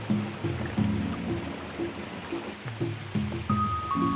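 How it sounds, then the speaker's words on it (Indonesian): Rushing, rippling stream water near a mini waterfall in Wonoboyo village, Bondowoso, runs continuously with irregular splashy surges, fairly close and steady, with no voices present. "Suara riak air makin banyak terdengar."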